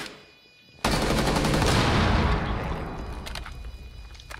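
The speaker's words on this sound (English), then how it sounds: "I have no idea where those shots are coming from" Heavy automatic gunfire in the video game Siege bursts in suddenly after a brief quiet moment, a loud, dense stream of rapid shots that tapers slightly but keeps rattling to the end, with no talking.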